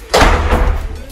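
A resort room door in Jamaica shuts with a single solid thud close by. A short resonant tail follows it.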